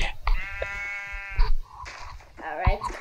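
Sheep bleating in a long, wavering call, then shorter bleats, close by, with a person talking between and over the calls.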